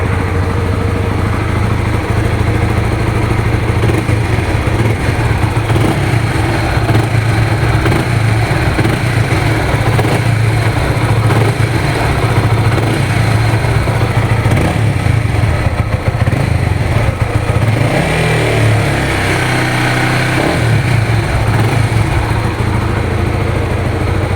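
A Honda Supra GTR 150 motorcycle engine runs loud and close, rumbling steadily, then revs up and settles back down near the end.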